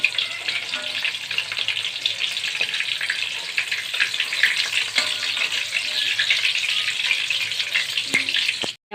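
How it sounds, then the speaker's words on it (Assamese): Chicken pakoras crackle in hot oil during their second deep fry, a dense steady sizzle close up that runs without pause and ends abruptly, no talking. "মই আকৌ পিচকেইটা এইকেইটা পকৰা ভাজি লওঁ। Second time ভাজিছোঁ।"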